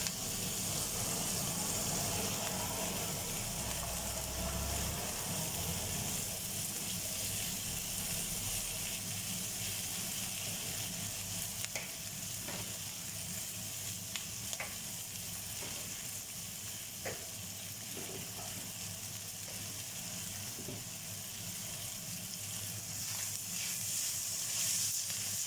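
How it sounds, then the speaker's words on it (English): Ingredients for a chicken curry casserole sauté in a pan with a steady, broad sizzling hiss that runs unbroken, close and moderately loud, with faint occasional pops and no talking. "So we're going to let that saute off a minute."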